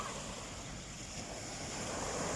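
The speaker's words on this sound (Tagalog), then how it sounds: "Malalaki ang alon." Big ocean waves at a beach, a continuous broadband wash of surf mixed with wind rumble on the microphone, fairly faint and steady throughout.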